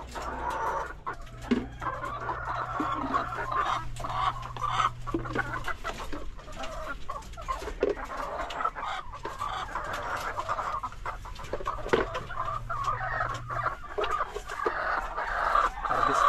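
Hens cluck and chatter in a poultry house beside nests of freshly laid eggs, with steady overlapping clucks throughout and a faint low hum underneath.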